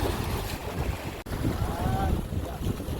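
Strong wind at a waterside fishing spot buffets the microphone in heavy, continuous low rumbling gusts, with lapping water underneath and a brief dropout midway.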